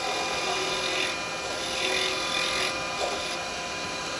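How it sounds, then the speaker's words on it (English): A wooden candlestick being sanded as it spins on a woodturning lathe, giving a steady, close, continuous rasping hiss with gentle swells and no talk. "Maybe a little bit of sanding."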